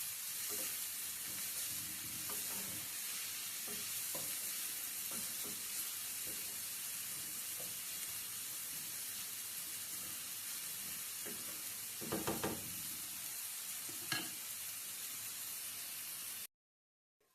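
Onions sizzle and soften in a pan for mackerel chutney, a steady soft frying hiss with occasional stirring scrapes, before cutting to silence at the end.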